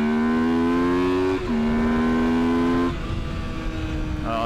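A Honda C50 Chaly motorcycle engine drones steadily while ridden, with clear pitch steps as it shifts gears and climbs again, loud and close with no talking.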